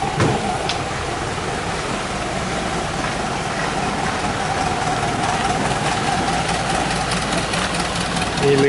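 A boat engine drones steadily as it passes by, a continuous mid-pitched motor hum with faint knocking that stays fairly loud throughout, without speech.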